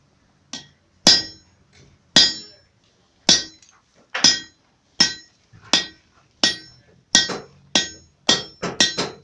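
A blacksmith hammering metal on a hardy tool at the anvil, a steady series of bright ringing strikes with some quick doubled blows toward the end, close and clear without speech.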